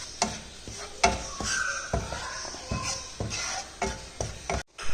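Ground coriander and turmeric roasting in a pan over a wood-fired stove, with repeated scraping stirs and faint sizzling at a steady, moderate level.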